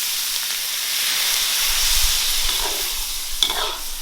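Water poured into a hot wok of peas and chili bean paste gives a steady, loud sizzling hiss with light stirring scrapes near the end.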